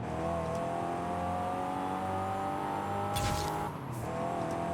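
A fully built big block engine in a Ford F-150 roars in the Forza Horizon 5 racing game, holding a steady high rev with a brief burst of tire noise partway through.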